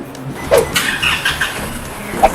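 A truck engine cranks and catches, with a few sharp starter bursts and a rough mechanical rumble, loud and close.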